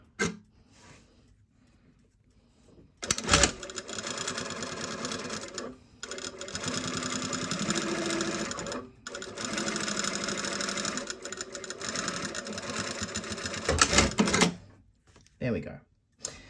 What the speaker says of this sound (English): I'm just going to pin stitch this edge down.